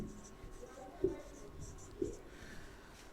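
Chalk or marker writing a simple accounting journal entry on a classroom board, with short faint strokes and two sharper taps, close and quiet.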